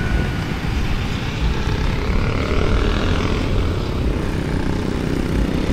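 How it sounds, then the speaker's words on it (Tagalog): A camera drone flying beside a wide multi-lane road in Antipolo, Rizal, giving a steady, loud buzzing rotor drone that runs continuously throughout, mixed with outdoor wind and traffic noise. "Dito palipad tayo drone dito."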